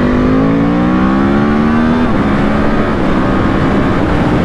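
Yamaha R1 sport motorcycle accelerating hard: a loud, close engine whine climbs steadily in pitch, drops briefly at a gear change midway, then keeps pulling under rushing wind.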